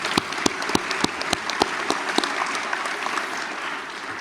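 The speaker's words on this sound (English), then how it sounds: "Please join me in giving them a round of applause." An audience at the Seneca High School National Honor Society induction applauds. Scattered sharp individual claps stand out over a thinner crowd wash that gradually tapers toward the end.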